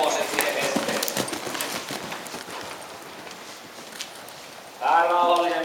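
A horse cantering during a riding lesson, with soft rhythmic hoofbeats on a surface at moderate distance, fading somewhat before an instructor's voice speaks at the end.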